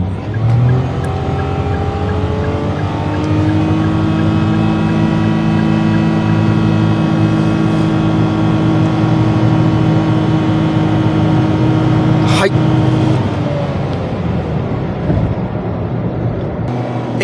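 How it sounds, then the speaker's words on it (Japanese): A new Indy 108 kei camper van accelerates at full throttle from 40 km/h, its engine whining loudly at a constant held rpm in a continuous drone, with a brief sharp knock late on and no talking. "エンジンがずっとウィーンって言ってその回転数で止まってるんで独特なんですけど"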